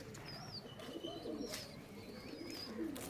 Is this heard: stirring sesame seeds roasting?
no